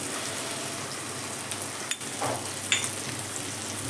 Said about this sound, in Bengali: মশলাটাকে খুব ভালো করে আমি কষিয়ে নেব